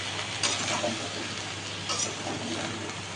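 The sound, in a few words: vegetables being stir-fried with spices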